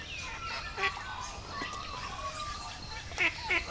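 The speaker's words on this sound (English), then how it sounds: "The usual annoying ducks are here." Ducks at an urban pond give a few short, nasal honking quacks at moderate distance, in scattered bursts over low outdoor background noise and soft talk.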